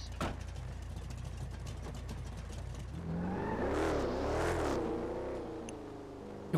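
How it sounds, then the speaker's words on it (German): A car exhaust in a GTA roleplay game, first a low steady rumble under a rapid ticking, then a loud rising and falling rev that swells for about two seconds before easing back. "Hast du den Auspuff gehört?"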